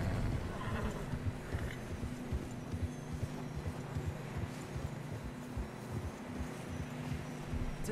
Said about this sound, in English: first person horse riding is not the best